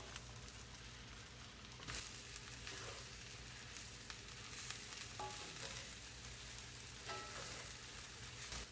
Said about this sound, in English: I'm just going to cook all that until the mushrooms get soft.